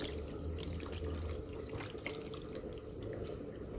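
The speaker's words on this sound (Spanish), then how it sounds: "Aquí le voy a agregar media taza de vinagre." Vinegar pours in a steady, close liquid stream onto cooked pork trotters, a continuous splashing trickle heard alone for a few seconds.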